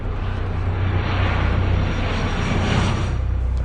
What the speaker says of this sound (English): The sound of another plane came